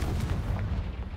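A Confringo spell blast in the Hogwarts Legacy video game lands as a short, heavy booming burst with deep rumbling low end, fading within about a second.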